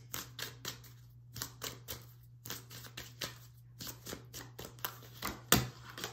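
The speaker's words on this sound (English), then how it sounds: "they're telling me to shuffle" Tarot cards being shuffled by hand during a reading, a series of quick riffling bursts in an irregular rhythm, close and fairly soft, with brief pauses between shuffles and a faint steady hum beneath.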